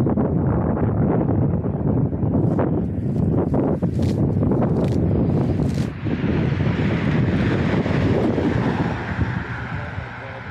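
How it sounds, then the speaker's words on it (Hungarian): Strong wind buffets the microphone continuously, with flapping, crackling plastic bale wrap rattling in gusts on a cattle farm; a voice is faintly audible. "Fújja a bála fóliát a szél."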